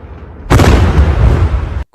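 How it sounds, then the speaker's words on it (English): A sudden, massive explosion bursts in and roars with sustained rumbling for over a second before cutting off abruptly. "That fucking explosion."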